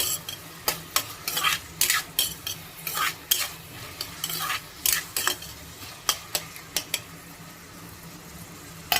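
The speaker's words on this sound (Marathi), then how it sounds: "कांदा आपल्याला चांगला गुलाबी रंगावर परतून घ्यायचा आहे" Onion sautés in a pan for Maharashtrian karela bhaji, a low sizzle punctuated by a dozen or so sharp, irregular scrapes and clinks of a spoon stirring against the metal, close and fairly loud.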